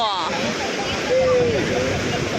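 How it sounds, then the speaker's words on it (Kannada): Ocean waves at a beach roll in as a continuous broad roar with wind, and voices call out over the surf. "ಇವಾಗ ಬಂತು ಬಂತು ಅಲೆ ಬಂತು"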